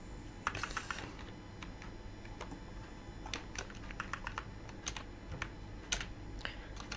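Steady, quick typing on a computer keyboard, with close, crisp key clicks in an irregular rhythm and no voices, as commands for a Raspberry Pi Python setup are entered.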